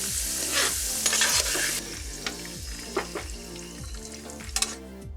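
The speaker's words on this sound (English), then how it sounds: "Because you're not frying them, you're just sauteing them." Green beans sizzle and hiss in a hot pan while being sauteed and stirred for Persian loobia polo, with steady crackling and repeated scraping strokes throughout.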